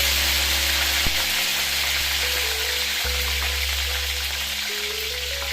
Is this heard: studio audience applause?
no